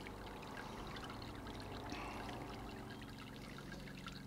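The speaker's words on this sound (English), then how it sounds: "You might be able to just hear the liquid draining." Liquid drains from a Brewzilla all-in-one brewing system during an IPA brew, a steady, soft trickling pour that runs continuously at low level throughout.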